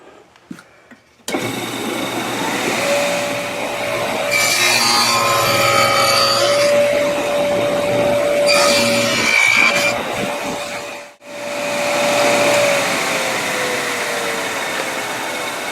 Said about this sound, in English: Okay, so pass this over the saw.